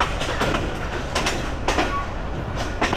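A slow train rolls along a rural branch line, its wheels clattering in a steady, unhurried rhythm close by, with periodic louder rattles of the cars and no voices.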